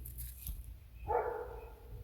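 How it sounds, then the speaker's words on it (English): A dog barks at someone walking past outdoors, giving a single distant bark partway through amid quiet background noise. "There's a dog not too happy that I'm walking back through here."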